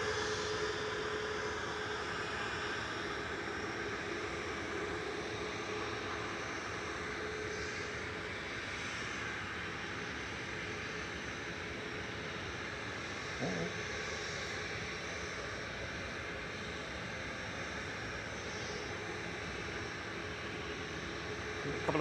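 Ryanair airliners flying over Manchester Airport, a continuous broad roar of jet engines that holds steady and fairly distant for a long stretch, with no talking.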